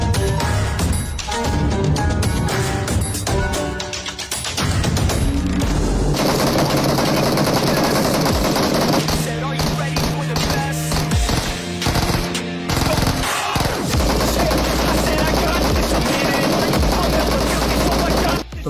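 Gunfire from the battle game PUBG, loud and sustained, with bursts of automatic fire layered over music and effects throughout.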